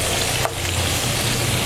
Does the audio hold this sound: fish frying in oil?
yes